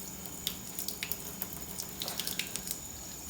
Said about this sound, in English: We're going to give it a quick rinse